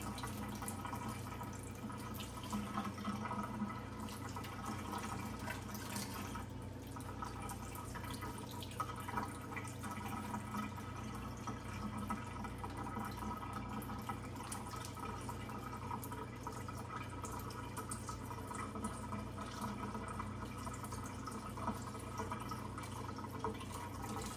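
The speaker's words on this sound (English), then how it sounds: "Just running them directly under the faucet." Cornish hens rinsed directly under a running cold-water kitchen faucet, a steady continuous stream of splashing water with faint dripping, close and even throughout, no voices.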